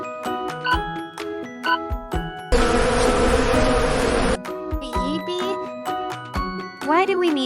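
A bee buzzing on a farm, a dense, steady drone lasting about two seconds, set between bright chiming musical tones.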